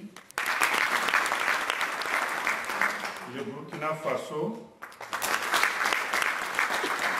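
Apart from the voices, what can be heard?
applause for African countries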